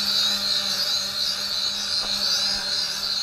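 An SM966HC quadcopter drone with removable arms and an HD FPV camera hovers overhead outdoors, giving a steady, high-pitched propeller whine with a constant low hum, alone and unbroken.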